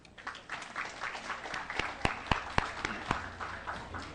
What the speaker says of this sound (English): let us all give a round of applause to the pride of the Philippines, Heidelin Diaz.